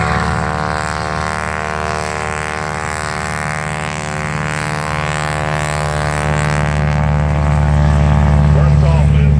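An SNJ propeller trainer takes off at an air show, its radial engine droning loud and steady with a strong rising buzz, under an announcer's voice on a public address system.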